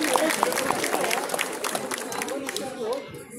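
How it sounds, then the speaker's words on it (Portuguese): An audience at an adult cosplay contest during a Bon Odori festival in São Bernardo do Campo claps in a moderate burst of applause that fades out, with a voice speaking over it. "salva de palmas para Andressa Guimarães"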